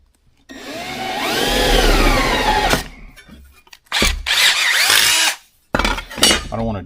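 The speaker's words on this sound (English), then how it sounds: "Drill these 2 holes." A power drill whines loudly through two long bursts drilling two holes while installing a wiring kit on a 1968 C10 truck, pitch rising and falling as it bites, with quiet clunks in the gaps.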